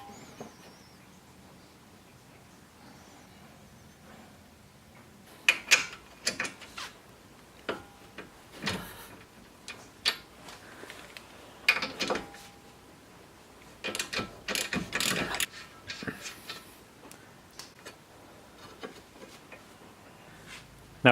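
Ratchet turning a marked bolt on the axle of a 2002 Subaru Impreza WRX Wagon, heard as bursts of sharp metallic clicking separated by pauses, close and fairly loud against a quiet workshop background.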